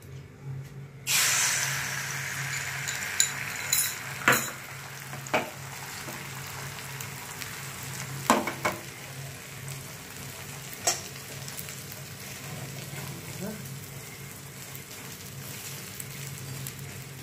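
An egg poured into a hot pan for a paratha roll bursts into a loud hiss, then settles into steady sizzling, with occasional sharp taps and scrapes of a spatula.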